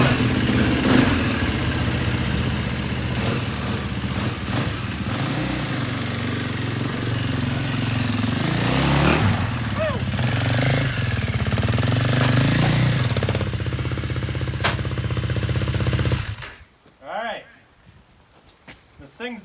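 A quad ATV engine runs steadily at close range with a rough, clattering idle, and voices talk over it before the motor cuts out near the end.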